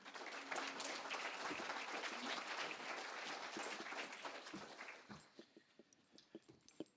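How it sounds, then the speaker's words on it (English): An audience applauds a Command Sergeant Major at a leadership awards event: dense, sustained clapping for about five seconds, then thinning into scattered individual claps that fade out. "Please give him a round of applause as he comes."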